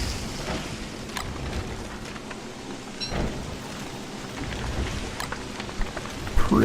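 Steady rain falls in the Don't Starve video game, a constant wash of droplets with a few louder thumps and a rumble near the end, no voices.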